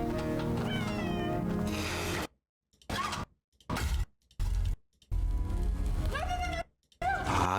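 A cat in a House of the Dragon episode meows several times in a row, bending its pitch up and down, with short silent gaps between the calls.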